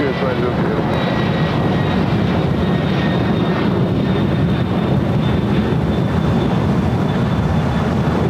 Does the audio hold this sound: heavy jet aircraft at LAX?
yes